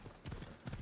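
Horse hooves clip-clop steadily in Assassin's Creed Odyssey, a quick run of hoofbeats at close range over a faint background bed, with no voices over them.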